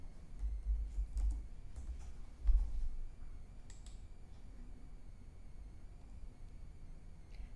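Soft keystrokes on a computer keyboard come in short bursts, then thin out to scattered, quieter clicks over faint background hiss.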